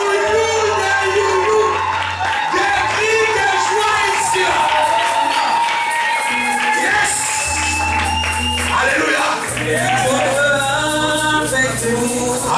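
A church congregation cheers and shouts over music, a lively crowd roar with whoops and voices mixed with sustained keyboard chords, loud and continuous.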